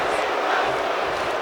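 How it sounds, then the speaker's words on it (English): Tag team wrestling crowd at a main event, a dense, loud wash of massed voices cheering and chanting continuously throughout. "You see the crowd chanting tag team wrestling."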